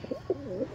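A pigeon in a loft gives a short, soft, rolling coo, close and low, with a faint hum behind.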